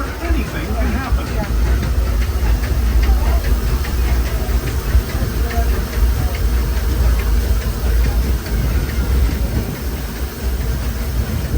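The Disneyland Railroad steam train runs past Hungry Bear Restaurant toward the Rivers of America, giving a steady rumbling, chuffing roll with rail clatter, loud and continuous beneath a speaking voice.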